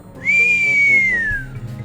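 A single clear whistled note glides up, holds steady for about a second, then slides gently downward, loud and close over a faint low background during a tabletop fantasy roleplaying session.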